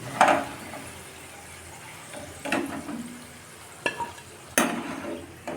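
Potatoes fried to a rich red colour in a pan are stirred and lifted out. Separate bursts of scraping and sizzling come between quieter gaps, close by, with no one talking.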